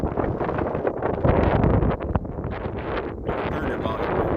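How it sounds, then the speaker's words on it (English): Heavy gusting wind buffets the microphone outdoors, producing loud, uneven rumbling bursts and dropouts throughout with no clear speech above it. "Now I know this is going to be noisy because it's windy"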